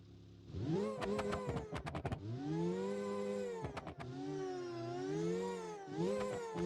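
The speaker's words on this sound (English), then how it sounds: "supercharger noise" A game car engine revs up and down repeatedly, with a whining supercharged tone rising and falling, broken by rapid gear-shift bursts.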